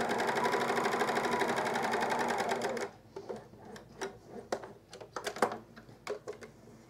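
A coverstitch or serger sewing machine runs steadily for about three seconds while stitching elastic onto a camisole, then gives way to short, irregular bursts of stitching and handling clatter.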